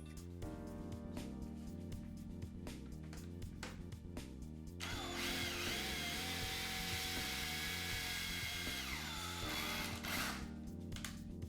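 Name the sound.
cordless drill turning a ball screw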